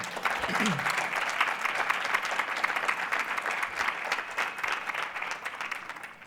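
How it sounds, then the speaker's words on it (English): A steady round of audience applause for a moderator at an International Women's Day panel event, dense even clapping filling the whole stretch with faint crowd murmur. "And how about a round of applause for Soledad"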